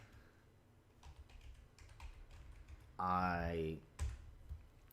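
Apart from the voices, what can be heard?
typing on a computer keyboard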